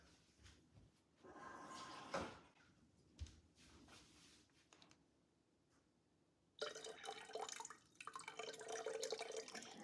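Water drips and trickles into a container while goat medicine for a Nigerian Dwarf goat is mixed, with two short bursts early on and a louder, sustained splashing pour in the last few seconds, no talking.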